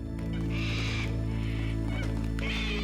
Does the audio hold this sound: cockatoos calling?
yes